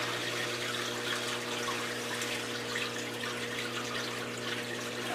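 Water rushes and trickles steadily as a flatback hex aquarium system fills after being switched on, a constant close hiss over a low pump hum with no voices.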